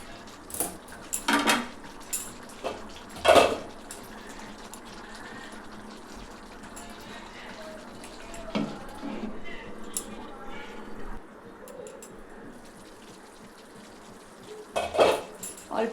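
A spoon scrapes and clinks against a pot while chicken curry is stirred, several short bursts of metallic knocking and scraping spaced apart over a quiet background sizzle, close by.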